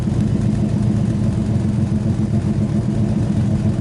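A 1963 Plymouth Belvedere engine runs at a steady idle just after starting up, a constant low rumble close by with no talk.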